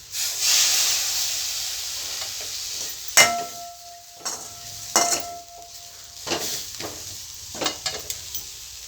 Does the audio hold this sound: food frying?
yes